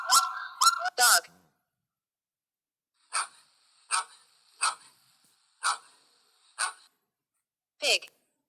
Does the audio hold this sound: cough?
no